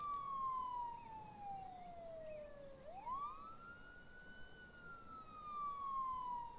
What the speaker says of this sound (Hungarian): Ez a rendőrautó az itt.